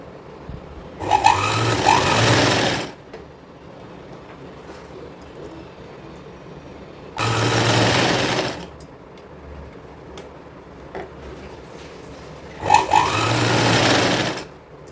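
A sewing machine stitches a kurti in three separate bursts of fast, whirring running stitches, each lasting about two seconds, with quiet pauses between them.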